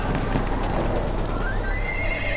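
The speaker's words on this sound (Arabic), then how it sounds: "حصان." A horse in the video game Battlefield 1 whinnies, a drawn-out neigh over a continuous bed of hoofbeats and battlefield noise, loud and close throughout.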